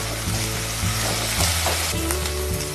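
Ginger garlic paste and onions sauté in a pan with a steady, close sizzle and faint stirring scrapes; there is no talk.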